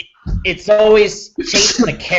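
A sharp sneeze bursts out between stretches of conversation, with someone talking before and after it.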